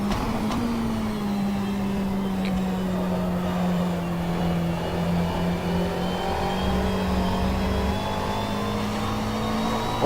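Race car engines in the rFactor 2 racing game drone steadily for the whole stretch, a loud sustained engine whine that sags slightly in pitch and then holds, with no talking over it.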